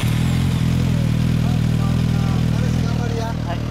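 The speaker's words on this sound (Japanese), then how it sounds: "ごめん、エンジンを聞かせてもらえる？" A 2005 Yamaha YZF-R1 sport bike engine idles loud and close, holding a steady low rumble without revving, while people talk over it.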